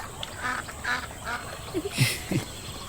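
A few scattered duck quacks from large, grown ducks, fairly soft and a little distant, come through over low background noise, bunched near the end.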